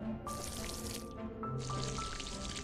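Water pours in two bursts from a watering can onto plants in the video game Green Project, hissing splashes with a brief gap between them over a quiet background hum.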